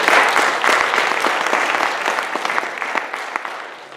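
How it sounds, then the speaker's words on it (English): A real estate investors' meeting audience applauds Randall with a steady round of clapping that starts strong and thins gradually over four seconds, with individual claps growing more distinct as it fades. "Let's give a round of applause for Randall."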